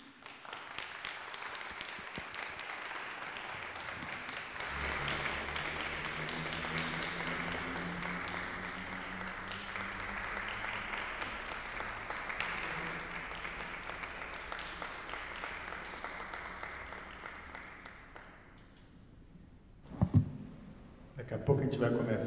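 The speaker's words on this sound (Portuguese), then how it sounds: "Eu quero convidar a todos para recebermos com uma salva de palmas o Du Fantini." An audience at a chamber music concert applauds to welcome Duo Fantini, steady clapping over a long stretch with a low musical hum underneath, fading out before a short burst of noise at the end.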